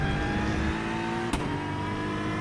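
Aston Martin race car in the iRacing video game, its engine droning steadily at high revs with a brief sharp click partway through, continuous and close throughout.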